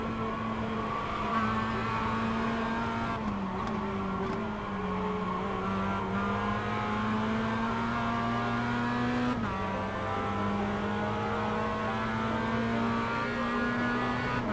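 A Mazda MX-5 race car in the iRacing simulator runs down a descent at Ledenon, its engine droning steadily with pitch dips as the throttle lifts and gearing shifts, loud and continuous without voices.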